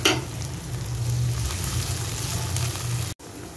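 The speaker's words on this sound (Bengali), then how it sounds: "টমেটোটা নরম হওয়া পর্যন্ত ভেজে নিচ্ছি।" Chopped tomato fries in a pan for bread upma, a steady, close sizzle with a low bubbling undertone that cuts off abruptly near the end before resuming, with no talking.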